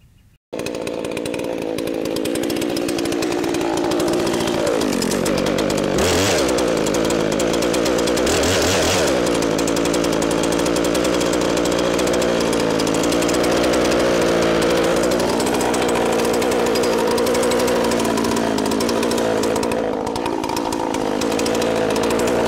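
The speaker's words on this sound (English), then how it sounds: "We've got some recutting to do on some free wood." A chainsaw recuts free firewood logs in central Minnesota, roaring loud and close almost without pause, its engine pitch dipping and rising as the chain bites into the wood.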